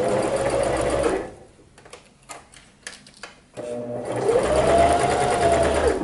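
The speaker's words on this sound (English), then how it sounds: "I'm just doing this on the straight stitch. I'm gonna pull a little bit while I'm sewing." A sewing machine running a straight stitch to attach elastic to swimwear fabric, a steady rapid whirring that stops for a couple of seconds of handling clicks, then resumes.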